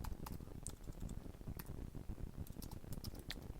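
Someone types on a computer keyboard while entering code into a Scala REPL. Quiet, quick, irregular keystrokes tap alone at close range.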